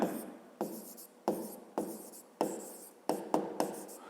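Pen strokes on paper while a math problem is written out, a series of distinct scratchy strokes and taps at an uneven pace, close and fairly quiet, with no talking.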